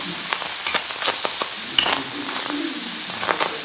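Miso-glazed pigeon on skewers searing in a hot pan, giving a loud, close, steady sizzle with sharp crackling pops throughout.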